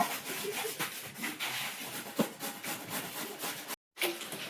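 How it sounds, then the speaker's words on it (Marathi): Carrots are grated by hand for carrot halwa, giving close, rhythmic rasping strokes at a quick, steady pace, with a brief silent gap near the end. "आपलं गाजर गाजर किसून झालेले आहे."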